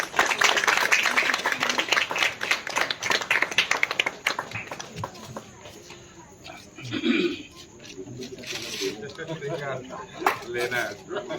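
Audience clapping at an Adivasi Day gathering in Nagpur, a loud dense burst at first that thins into scattered claps under a speaking voice after about four seconds.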